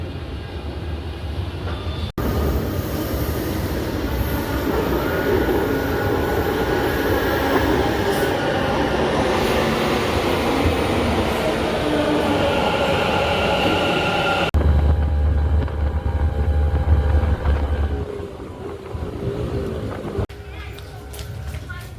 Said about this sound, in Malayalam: മെട്രോയിൽ കയറാൻ പോവുകയാണ്